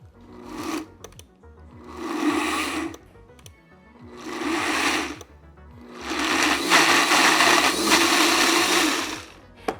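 ZWILLING Enfinigy personal blender pulsing pesto sauce in four loud motor bursts of rising length, separated by short pauses, the last burst running about four seconds.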